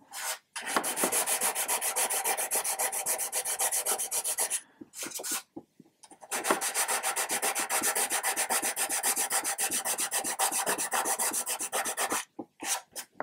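A sanding stick is worked side to side on the plastic hull of a 1/200 Trumpeter Scharnhorst model, giving a close, steady rasping scrape in rapid strokes with two brief pauses.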